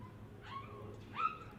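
Dogs barking or yelping outdoors, two short rising calls heard at a moderate distance, the second louder, over low background rumble.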